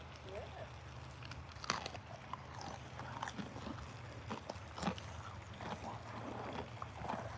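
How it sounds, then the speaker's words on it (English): Someone bites into and chews fried perch and bluegill, producing a quick run of close, crisp crunches and smacks over a faint background hum. "Because I want you to hear the crunch."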